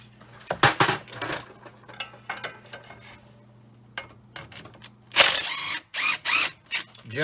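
Impact wrench rattling loose a heated sway bar link nut on a Chrysler Town & Country / Dodge Grand Caravan, with metal clatter early on and then loud, close hammering bursts in quick succession near the end.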